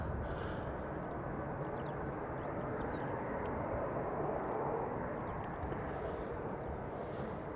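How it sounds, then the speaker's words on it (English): KLM Embraer 190 jet arriving at Amsterdam Schiphol, a steady broad engine roar held at a distance throughout, with light wind noise and no talk. "KLM flight 986. Embraer 190, returning from London City."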